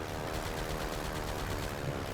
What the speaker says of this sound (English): Let's give the new flak cannons a try.